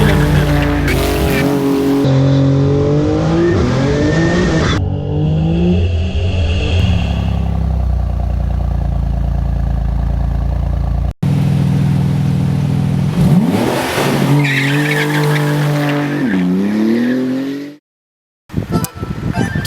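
A Porsche GT2 sports car revs hard with rising and falling engine sweeps, and tires squeal and skid. The engine roars loud and close almost without a break before cutting out near the end.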